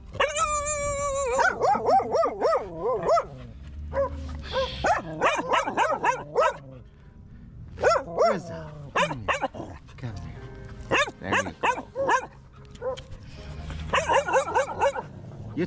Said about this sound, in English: Oh, yeah, you just barking because he's barking.